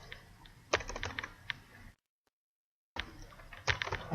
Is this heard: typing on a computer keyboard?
yes